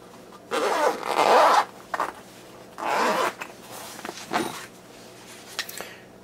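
A zipper on a soft pouch for a Kimber Solo Carry STS pistol is pulled in several quick, close strokes of varying length, loud against a quiet room.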